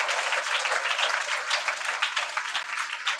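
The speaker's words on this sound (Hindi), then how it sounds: "जोरदार ताली बजाओ परमेश्वर के लिए।" A Sunday church congregation breaks into loud, dense applause for God, a sustained wash of many hands clapping together at steady intensity, close and full, with no voices on top.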